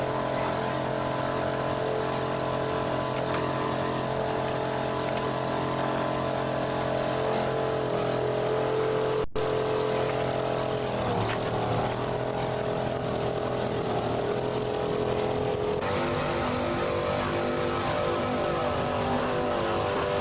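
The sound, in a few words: racing powerboat engines at full throttle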